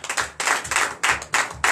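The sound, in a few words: church congregation clapping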